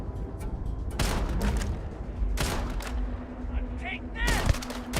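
Gunfire in the Starfield video game: several sharp, loud shots and short bursts scattered across the moment, with a person talking over the shooting.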